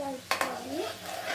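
Tomato mixture for pasta is stirred in a pan, a spoon scraping and clinking twice against the metal over a soft sizzle, brief and close.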